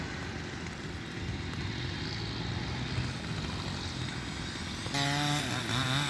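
A farm tractor pushing over a large tree on a sugarcane and cassava plantation, its engine droning loud and steady close by, then revving higher and rougher near the end.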